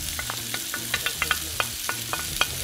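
Half-moon slices of onion cooking in a pan, a quiet constant sizzle punctuated by light, regular clicks and taps of stirring.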